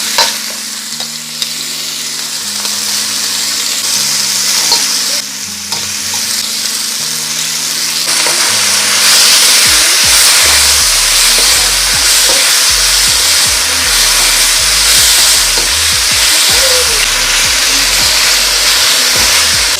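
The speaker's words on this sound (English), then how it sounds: "Beef. And we're going to cook this for at least 6 minutes." Beef fries in canola oil in a pan for a stir fry, first a quieter crackle, then a loud, dense, close sizzle swelling and holding steady with occasional stirring scrapes.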